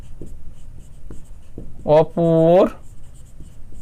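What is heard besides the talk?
pen writing on paper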